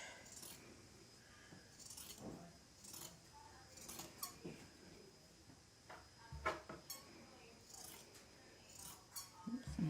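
Fabric scissors snip repeatedly at close range cutting off fringe, sharp metallic clicks in an irregular rhythm, fairly faint, with occasional rustling handling noise.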